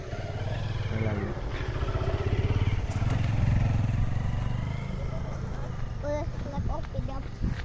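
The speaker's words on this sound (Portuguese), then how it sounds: "Uma moto aí, vem pra cá, pra beirada." A motorcycle on a rural road in the Brazilian sertão at dusk rumbles steadily nearby as it passes, with someone talking over it and some clatter.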